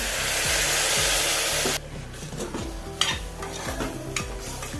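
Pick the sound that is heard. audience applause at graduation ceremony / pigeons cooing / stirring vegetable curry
stirring vegetable curry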